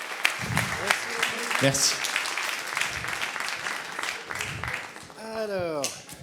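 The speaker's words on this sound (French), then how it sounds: "On applaudit l'enveloppe, s'il vous plaît" Applause from a film festival audience at an awards ceremony, with scattered claps under a voice that speaks briefly, then a short harmonic vocal sound near the end.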